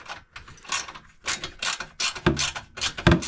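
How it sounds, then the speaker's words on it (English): A socket wrench ratchets in short scratchy clicking bursts on flange bolts during a Warn winch install on a Talon, close and fairly quiet with brief pauses between turns. "That little scratchy noise, that was my socket wrench."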